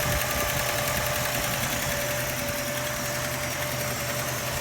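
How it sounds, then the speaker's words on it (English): An old car engine idles steadily with fresh oil, new points, a new fuel pump and the choke on, a constant close rumble carrying a faint light tick throughout, with no talking. "Engine's running. Got a little bit of a tick, but they may work its way out."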